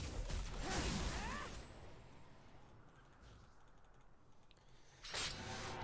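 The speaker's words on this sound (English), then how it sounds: "My mouse clicks are just like fucking donkey clicks." Computer mouse clicks from a gaming stream setup: a dense clatter of sharp clicks near the microphone in two bursts, one at the start and one at the end, with quieter room noise between and no talking.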